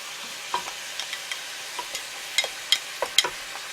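Chop steak sizzling in a pan as sauce goes in, a steady frying hiss broken by scattered clinks and scrapes of stirring, close and fairly quiet with no one talking.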